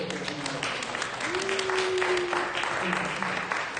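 A church congregation at a Sunday service claps steadily in a warm, sustained round of applause while a voice talks over it.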